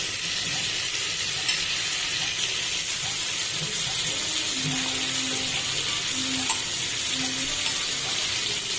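Bitter gourd sizzles steadily in hot oil, a continuous broadband frying hiss, with a few faint scrapes of stirring near the end.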